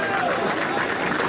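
Audience applause breaks out at a raffle draw during a nose-lowering event, a dense, steady wash of clapping from a crowd, fairly even and continuous throughout.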